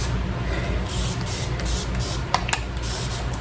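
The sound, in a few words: spray bottle spraying water on hair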